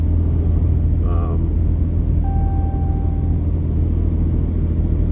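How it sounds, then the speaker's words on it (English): A truck passes by on a rural backroad while heard from inside a moving vehicle, a constant low rumble of road and engine noise with a brief thin whine as it goes by. "after this truck passes us by"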